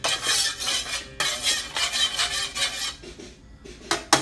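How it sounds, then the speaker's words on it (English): Oil stirred around a hot wok in a small sailboat galley, loud bursts of metallic scraping and swirling that come in waves, then brief quieter gaps before a final sharp clatter. "Get a hot wok going, stir around, get that up to temp."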